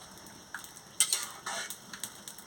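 A spoon stirs turmeric into pumpkin stem dal in a pot, giving a few soft, scraping strokes with light metallic ticks, close and quiet, with no talking.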